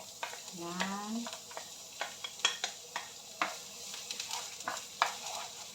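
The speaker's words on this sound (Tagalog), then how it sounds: "Gisahin natin yung bawang." Garlic sautéing in a hot pan while being stirred, a steady sizzle with spatula scrapes and clinks over it, a short voice remark early on.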